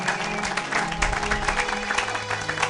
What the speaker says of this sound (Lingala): Acclamez pour la gloire de notre Dieu